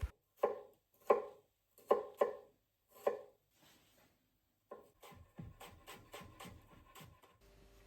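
A knife chops garlic on a board for a pesto, first with about six sharp, spaced thuds, then with a brief pause and a rapid run of lighter, quicker chops; close and clear, with no talk.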